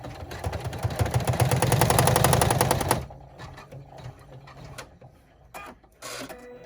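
Embroidery machine stitching a zipper bag clutch, a dense rapid mechanical rattle of needle strikes running loud and steady for about three seconds, then dropping to quieter intermittent clicks and thumps.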